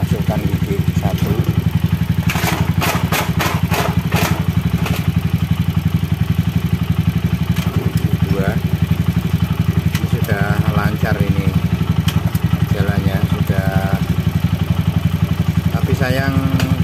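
A Viar three-wheeler's engine runs steadily and loud at close range while the transmission is shifted into first gear, a constant low rumble with light clatter, and someone speaks briefly over it.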